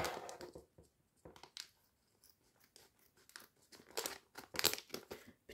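Crinkly plastic wrapping on a LEGO Ninjago magazine being handled and torn open, with bursts of crumpling and ripping separated by short quiet gaps, close up and with no talking.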